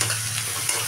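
Ginger-garlic paste with cloves and cardamom frying in a pan, a steady close sizzle with faint stirring and no voices.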